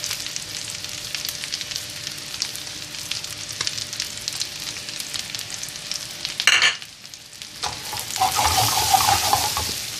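Baby potatoes sauté in butter and spices, a steady close sizzle with bursts of stirring, a sharp rattle around the middle, then the frying swells louder toward the end.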